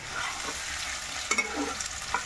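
Masala spices frying in a kadhai, a continuous soft sizzle with a few light stirring scrapes and clinks near the end.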